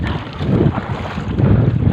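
Strong wind buffets the microphone in a continuous, loud roar while paddling a boat to a fishing spot, with water and boat noise mixed underneath.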